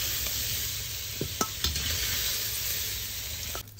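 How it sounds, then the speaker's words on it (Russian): Chopped onion frying in rendered fat in a kazan pot for solyanka, a steady close sizzle throughout with a few scraping stirs of a utensil against the metal, no voices. "Лук обжариваем."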